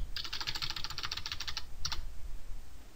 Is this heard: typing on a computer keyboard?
yes